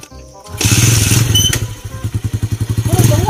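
A motorcycle engine starts up close by after a brief thump, then runs in a loud, pulsing idle with rhythmic throttle surges.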